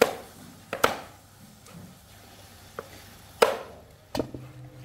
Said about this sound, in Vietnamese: Đây là băm xương với cái xương sườn để cho vào nấu chả cầy nhé